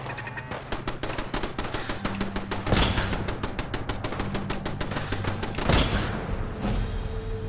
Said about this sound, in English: While the turrets are distracting them, I'm gonna take a few pot shots while I can.